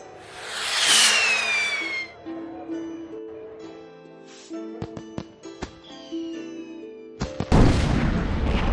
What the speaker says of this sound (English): The force of the explosion sent Mushu and Cricky flying through the air.